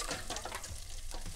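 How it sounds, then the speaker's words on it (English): A whisk working carbonara ingredients in a bowl: a quick, continuous swishing and light clinking, close and fairly quiet, with no voices. "And now you start working with your whisk"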